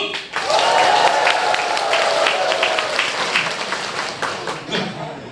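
Audience members at a comedic academy lecture clap to vote for a mother, a loud burst of close, dense applause that rises quickly and slowly thins out, with a voice and laughter heard through it.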